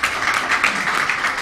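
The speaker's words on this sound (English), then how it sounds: "Let's give them a bigger round of applause." Steady applause from an audience at a program launch event in Belize, following a violin performance by three brothers; dense, even clapping throughout with no voices over it.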